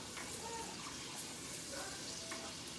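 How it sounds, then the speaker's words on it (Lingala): Cooking oil heating in a pan: a soft, steady hiss and faint crackle that runs on without a break, quiet and close. "Ezobela mafuta."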